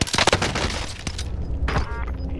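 Gunfire in a war shooter with an M1 Garand on the battlefield, a cluster of sharp close shots and impacts at the start, then scattered bangs and crackling debris.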